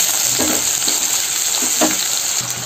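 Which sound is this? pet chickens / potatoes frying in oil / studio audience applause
potatoes frying in oil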